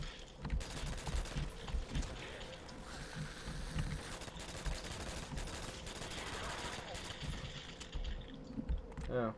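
PPSh submachine gun fire in Call of Duty custom zombies on an Area 51 map, rapid bursts of gunfire heard faintly and somewhat distant, mixed with game noise and intermittent voices.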